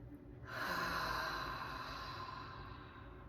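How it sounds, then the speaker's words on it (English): A single deep, slow cleansing breath during a calming breathwork practice, a long airy exhale rising suddenly then sustained for about three seconds, close and fairly soft, with no talking. "I'm going to do one more cleansing breath."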